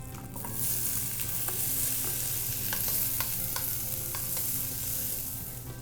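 Potatoes frying in a pan of hot oil for chicken fried steak, giving a steady close sizzle with scattered crackles and pops, with no one speaking.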